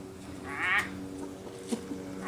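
A single duck quack sounds briefly and moderately loud over a soft background hiss, followed by faint low noises.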